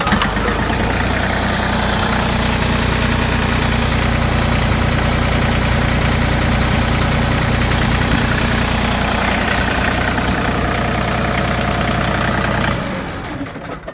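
Water-cooled tractor engine idling steadily and loudly close up, a continuous low rumbling chug with knocking texture that cuts off near the end.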